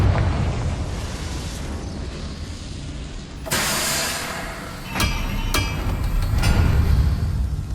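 A Confringo fire spell blasts in Hogwarts Legacy, with a sudden broad burst partway through followed by a couple of sharp cracking impacts over steady rumbling game ambience.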